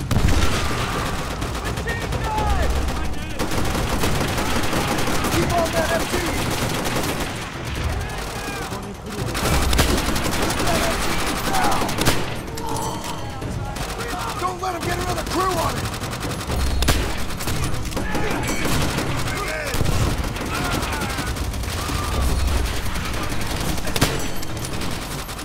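Sustained machine gun fire and scattered gunshots from a World War II battle in Call of Duty: World at War, loud and continuous with dense bursts and occasional booms, with shouted voices mixed in.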